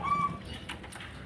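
Zebra dove, a perkutut, cooing softly in a short, quiet burst of one or two low rolling coos with faint background hum.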